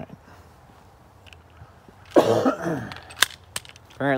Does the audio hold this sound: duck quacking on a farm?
no